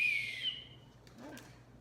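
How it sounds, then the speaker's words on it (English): A low, soft whistle used to call a dog back during indoor recall training, starting clearly and then tapering off, followed by a faint second tone about a second later. "I'm just doing a low whistle"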